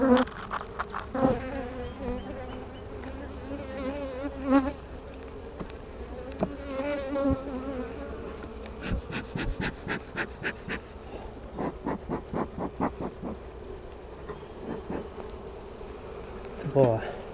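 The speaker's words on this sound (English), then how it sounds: "guard bees coming after me a little bit" Honey bees buzz close by during a hive inspection, individual insects and guard bees droning in and out around the hive, with soft breathing and occasional handling noises underneath.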